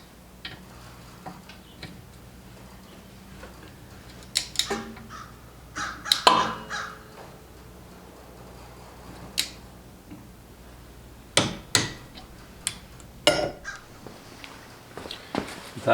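A torque wrench clicks as it tightens rear brake bolts on a Toyota Sienna to 25 foot-pounds. The clicks come as sparse, sharp, close ticks with quiet pauses between them.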